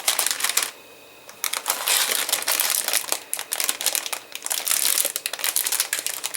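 Several plastic bags holding parts of a Star Wars Mandalorian model kit are handled up close, giving loud continuous crinkling and rustling with a brief pause early on.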